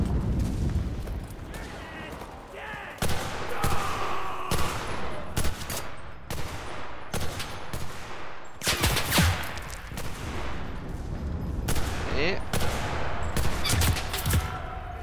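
Rapid bursts of gunfire from the World War II shooter Enlisted, fought by a Free French squad, with sharp repeated shots and heavier blasts crowding a dense battlefield mix while a voice talks over the action.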